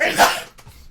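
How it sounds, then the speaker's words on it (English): One sharp, close sneeze bursts out, then a brief quiet breathy trail. "She sneezes."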